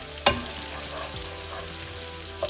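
Ginger and garlic fry in oil for a paneer curry with a low, steady sizzle, broken by a sharp utensil knock near the start and another near the end, close by with no talking.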